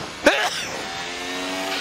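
A single sharp sneeze from the driver inside a Formula 1 car at the Hungarian Grand Prix, loud and close, followed by the steady drone of the engine.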